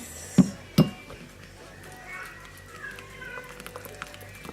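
A spoon stirring icing sugar into water in a cup gives two bright clinks against the cup, followed by quieter faint scraping.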